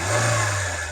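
A 2005 Maruti Esteem petrol car's engine runs close up, a steady loud mid-pitched hum with a strong low drone, revving slightly without distinct peaks, alone with no voices.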